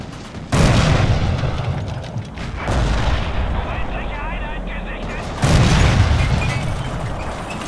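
Gunfire and blasts just outside a trench in Forgotten Hope 2, three loud booming bursts with rumbling tails spaced a few seconds apart over continuous battle noise.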